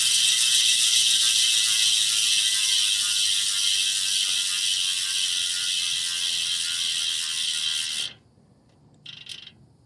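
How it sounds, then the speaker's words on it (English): Freewheel hub of a Hunt 40 Carbon gravel race bike wheel spinning with a fast, continuous ratchet-pawl buzz for about eight seconds, then stopping abruptly, followed by a short final burst of clicks. "Now it's time to see how noisy this freewheel is or isn't."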